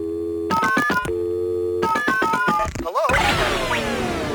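A telephone call connects: two bursts of rapid electronic tones, a short warbling chirp, then a click into an open line with faint noise. The sounds are loud, close and have no talk over them.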